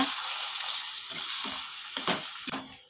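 Cooked sago pearls are stirred in a hot pan, the spoon scraping in a few separate strokes over a soft, continuous sizzle, close and moderately loud.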